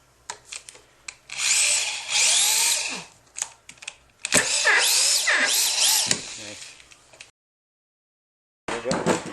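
A power drill drives screws into a mobile home subfloor in several loud bursts, its whine rising as each screw sinks, separated by brief pauses and a stretch of silence near the end.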